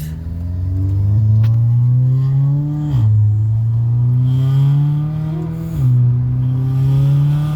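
A car engine with a Precision Raceworks MPI intake manifold revs hard through several gears, rising pitch then dropping at each shift, loud and close with no talking.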